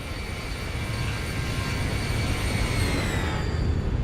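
A Boeing 737 flying past in the X-Plane flight simulator: a steady, loud roar of jet engines with a whining tone that holds throughout, alone and without voices.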